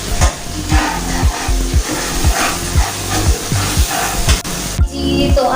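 Onions frying in a pan for chicken achar gosht, a steady loud sizzle broken by repeated scraping stirs of a spoon against the pan at a fairly regular rhythm, with no talking.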